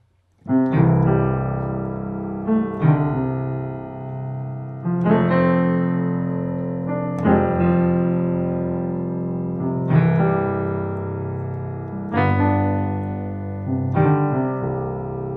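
Blues piano piece played solo, with repeated chord attacks and rolling melodic runs ringing out in a steady, unhurried rhythm, close and clear with no talking.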